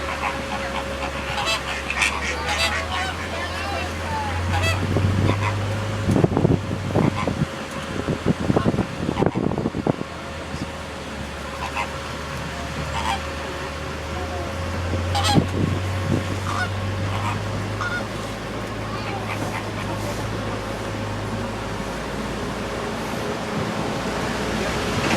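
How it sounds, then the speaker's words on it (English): Greater flamingos call from an island, heard from the Kilimanjaro safari ride at Disney World. Scattered goose-like honks come from a moderate distance over a steady vehicle rumble and hum. "Out here on the island, you're going to see some greater flamingos."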